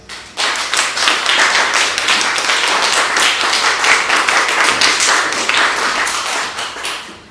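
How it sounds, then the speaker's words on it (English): An audience at a poetry reading claps loudly for a reader named Dave, a crisp burst of many hands that swells in quickly, holds strong for several seconds and then tapers near the end. "applause for Dave, please."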